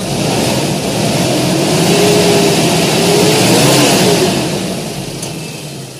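A motor engine revs up and holds at high speed in a loud, sustained roar that swells and eases slightly before tapering off at the end, close by and with no talk.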